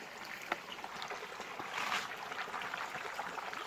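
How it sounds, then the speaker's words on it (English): Steady broadband rush of a waterfall in remote, untouched wilderness, a continuous distant roar of falling water with a faint swell midway and no voices. "Look at that magnificent waterfall."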